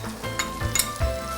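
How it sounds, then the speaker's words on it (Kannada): Chopped tomato sizzles and fries in hot oil in a pan while preparing khara bath, with a steady crackle and a few clinks of a spoon stirring against the pan. "ಚೆನ್ನಾಗಿ ಎಣ್ಣೆಲಿ ಹುರ್ಕೋಬೇಕು."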